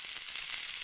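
Paneer tikka on wooden skewers cooking directly over an open flame makes a steady, even hiss of sizzling for a brief moment, with no talking.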